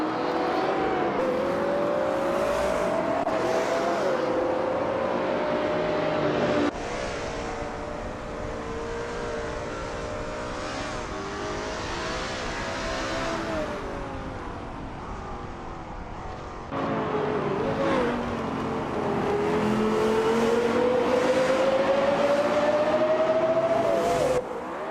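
Race car engines drone continuously through a race, rising and falling in pitch as cars pass and overtake, with several sweeping passes at varying distance and no talk.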